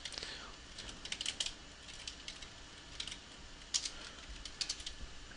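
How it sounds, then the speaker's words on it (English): Keys on a computer keyboard are tapped in quick, uneven bursts of soft clicks, fairly faint and close, with short pauses between runs. "I guess I'll go ahead and start typing and you guys can just follow along"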